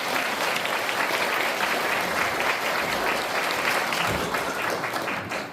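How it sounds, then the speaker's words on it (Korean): Audience applause at a Korean Provisional Government anniversary ceremony, a dense steady clapping from a large crowd lasting several seconds, fading slightly at the end. "큰 박수 부탁드리겠습니다."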